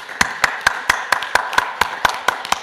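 Slow, evenly spaced claps ring out in a church during a New Year special dawn worship service, about a dozen sharp hits in a steady rhythm with little else around them.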